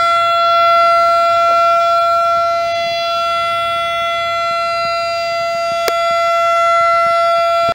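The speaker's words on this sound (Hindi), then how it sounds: "तकरीब का आगाज 9:58 पर सायरन बजाकर 1 मिनट की खामोशी अख्तियार की गई" A loud, steady civil defense siren wails continuously for a minute of silence at a Kashmir Solidarity Day event, holding a sustained tone throughout with a brief click partway through.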